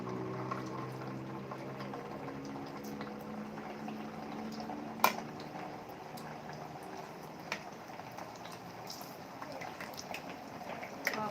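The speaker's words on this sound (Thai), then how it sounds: "เราเอาอันนี้ทอดต่อ ทอดหมดเลย" Pieces of pork skin frying in hot oil produce a continuous bubbling sizzle with a faint low hum beneath and a single sharp clink near the middle, close and steady with no talk.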